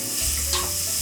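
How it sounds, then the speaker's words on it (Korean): Onions hit a pan of garlic-infused oil for tomato sauce and burst into a loud, steady sizzle that swells in slightly as they land, filling the short moment with no voices. "이제 양파를 넣어서, 난 이런 소리가 너무 듣기 좋아."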